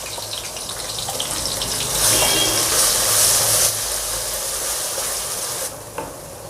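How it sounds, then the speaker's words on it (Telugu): Onion paste fries in a pan for fish curry with a continuous close sizzle that swells midway, then fades, with a light clink near the end. "ఇప్పుడు మనం ఆనియన్ పేస్ట్ ఈ పచ్చివాసన పోయేంత వరకు మనం వేయించుకోవాలి, లైట్ బ్రౌన్ కలర్ వచ్చేదాకా"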